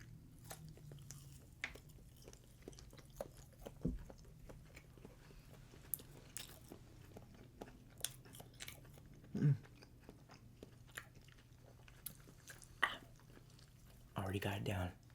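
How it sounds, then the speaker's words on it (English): Someone chewing flaming hot chicken wings in a quiet close-miked setting, with faint soft crunches and bites scattered through a low hum, a sharper bite midway and a brief louder rustle near the end. "The more you chew it, the worse it is."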